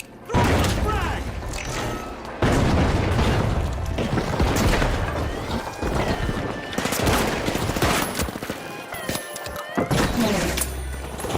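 Frag grenade blasts and bursts of gunfire in The Finals, a continuous loud mix of booming thuds and rapid shots filling the whole stretch, with game sounds layered throughout.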